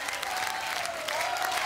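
A studio audience at a French children's singing TV show claps for a 13-year-old performer, a brief burst of dense, steady applause.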